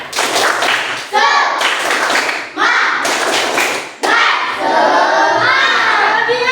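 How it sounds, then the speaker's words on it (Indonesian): Schoolchildren in a classroom doing the rhythmic 'tepuk semangat' clapping chant before a lesson, loud close bursts of patterned claps and shouted chanting in several sections separated by short pauses. "sebelum mulai pelajaran kita sama-sama tepuk semangat"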